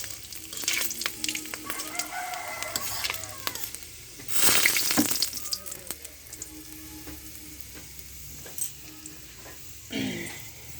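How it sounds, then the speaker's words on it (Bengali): Saat phoron, the seven-spice tempering, hits hot oil for red amaranth greens cooked without onion or garlic, letting out a steady crackling sizzle with one loud hissing surge midway and scattered stirring scrapes and pops, up close. "এবারে 7 ফোড়নটা দিয়ে দেবো।"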